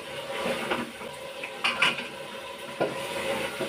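Curry being stirred in a cooking pot on the stove, with a few soft scraping and clinking knocks of the spoon against the pot rising briefly over a low steady kitchen hiss.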